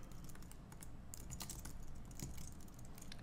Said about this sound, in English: Now I'll type who's there.